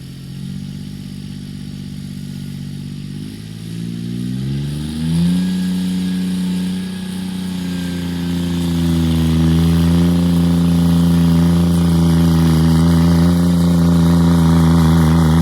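A turbocharged John Deere 330 tractor engine labors through a pull, its steady drone climbing in pitch as it loads up and then holding a loud, sustained roar close by with no talk over it.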